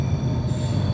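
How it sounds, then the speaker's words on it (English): A train passing close by, a loud, continuous rumble of rail cars with squealing wheels that holds steady for the whole moment with no voices. "wait till this train goes by"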